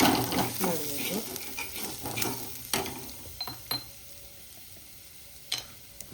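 Chicken liver frying with coriander powder and spices in a pan while being stirred, a lively sizzle with repeated scraping strokes and clacks of the spoon, busiest at first and then thinning to occasional knocks.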